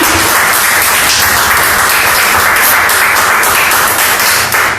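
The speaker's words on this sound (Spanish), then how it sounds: "Vamos de verdad a darle un fuerte aplauso al Espíritu Santo" Congregation in a church applauding loudly and steadily throughout, a dense wash of clapping with no pauses and no speech.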